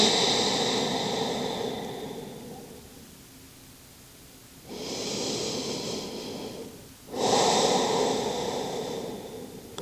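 Deep breathing during a yoga side-body stretch, with long, airy breaths drawn in and let out close to the microphone. A steady exhale fades, then two strong, sustained breaths follow after a brief catch.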